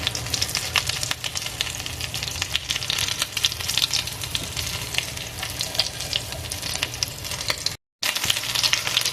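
Food frying in a hot pan gives a dense, continuous crackling sizzle at close range, with a brief dropout near the end and no talking.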